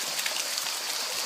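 Pizarra waterfalls near the village of Apikia on Andros produce a steady, bright rushing hiss of falling water, continuous and fairly close, with no talking.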